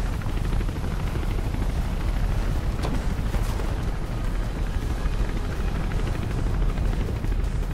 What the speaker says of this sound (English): And there's helicopters.